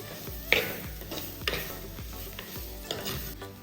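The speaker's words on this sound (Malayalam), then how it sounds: "ഒരു 2 പച്ചമുളക് നീളത്തിൽ പൊളിച്ചത് അതിൽ ചേർത്ത് കൊടുക്കുന്നുണ്ട്." Chopped ginger, garlic and slit green chilies frying in a pan for a Kerala-style okra curry, a steady close sizzle with regular scraping strokes of a stirring spoon.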